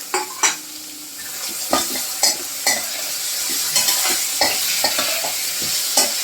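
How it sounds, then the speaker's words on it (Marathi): Four small chopped onions sizzle in hot oil in a pan for Maharashtrian baingan bharit, with a steady frying hiss broken by repeated sharp scrapes and clicks of a spoon stirring, close and fairly loud, no talking. "आता आपण घालतोय चार बारीक चिरलेला कांदा"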